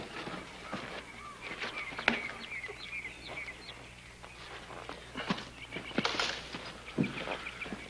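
A pony's hooves clip-clop at a walk with a few whinnies and snorts, fairly close, amid outdoor ambience and scattered bird calls.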